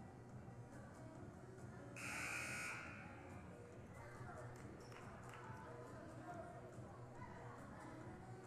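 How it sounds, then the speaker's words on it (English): A basketball game's warning buzzer after a timeout blares once for about a second, loud and bright over the gym's crowd murmur, with sneaker squeaks and a commentator's voice continuing in the background. "the warning buzzer sounds to bring the teams back in from the timeout"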